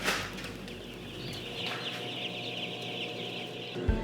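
Chickens cluck and chatter inside a poultry barn, a dense overlapping flock sound with a raised squawk near the end, heard alone without talk.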